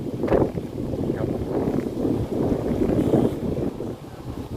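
Dry wind at the Dead Sea buffets the microphone in a continuous low rumble with gusty swells and no clear voices.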